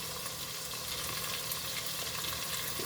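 Pepper, onion and leftover stew sizzle steadily in a pan for jollof rice, a close, continuous crackling fry with no voices.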